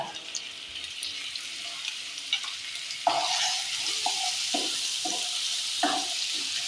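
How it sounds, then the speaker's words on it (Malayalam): Crushed ginger and garlic dropped into hot oil, a bright, hissing sizzle that swells after a few seconds and holds steady, with short spoon scrapes and clinks breaking through, close and fairly loud. "ഓയിൽ ഒന്ന് ചൂടായി വന്നാൽ നമുക്കിതിലേക്ക് ഇഞ്ചി വെളുത്തുള്ളി നല്ലോണം ഞാൻ ഒന്ന് ക്രഷ് ചെയ്തെടുത്തത് അത് ഇട്ട് കൊടുക്കാം."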